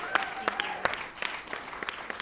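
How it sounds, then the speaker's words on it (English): Applause from an audience at a Nasdaq bell ringing event for colorectal cancer awareness, with steady, dense clapping throughout at moderate volume and nobody speaking over it. "A big round of applause."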